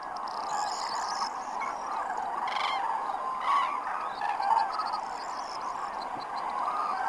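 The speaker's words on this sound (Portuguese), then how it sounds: "dezenas de milhares de garças, assim como gansos, ficam escondidos na água durante a noite" Geese honking on water at night among tens of thousands of herons, a dense continuous chorus of distant calls with occasional nearer honks standing out.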